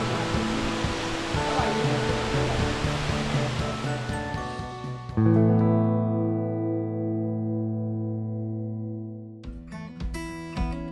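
Rushing, steady water pours down sheer cliff walls at the Adar-Kaya sanctuary in the Altai, Siberia, a broad hiss for the first half before sustained musical tones take over.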